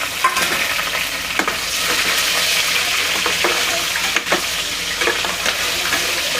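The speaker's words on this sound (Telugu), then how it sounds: "ఉల్లిపాయ ముక్కలు అవి కూడా వేసేసుకున్నాను." Onion pieces with curry leaves and green chillies frying in hot oil, a steady loud sizzle broken by scraping stirs, close up with no talking.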